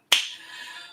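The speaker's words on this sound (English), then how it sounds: "I applaud you all, as I've been doing" A single sharp, crisp hand clap cheering on contestants, close and isolated, with a short bright ring trailing off in a quiet room.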